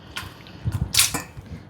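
Soaked tamarind and its soaking water are poured into a bowl with a short splash and drip, close and brief, for a no-cook dish.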